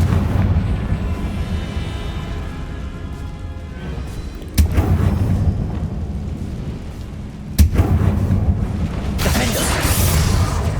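Two Confringo blasting-curse explosions in the Hogwarts Legacy game hit as sharp, loud booms several seconds apart, each followed by a rumbling decay over steady low combat ambience.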